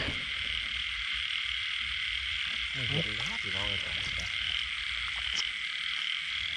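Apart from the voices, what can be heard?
frog croaking at night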